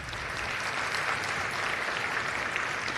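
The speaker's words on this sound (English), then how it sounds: "a round of applause." Sustained audience applause at a women's leadership awards ceremony in Kenosha, a dense, steady wash of many hands clapping throughout, no voices over it.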